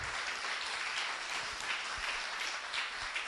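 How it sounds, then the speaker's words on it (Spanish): Church congregation applauding during a sermon, a soft, distant, even patter of many hands that carries on steadily without voices over it. "Alguien diga amén, denle un aplauso"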